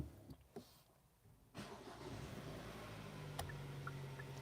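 Hyundai Santa Cruz truck engine starting after a few faint clicks, then settling into a low, steady idle heard from inside the cabin.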